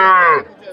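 A single loud, close cow moo rings out at a livestock market where cattle are sold, falling away after a short, strong call.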